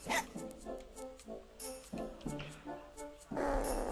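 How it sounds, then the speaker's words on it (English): A dog in the video game Mega Man Legends gives a series of short barks, yips and grunty whimpers in an irregular rhythm, close and clear, with a brief louder burst at the end. "A dog can grunt like that?"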